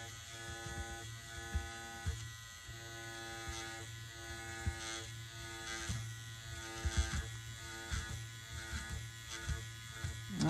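An electric stitch eraser buzzes while removing stitching, a close, faint motor drone with a steady hum that pulses in short repeated strokes as it works through the thread, with no talking.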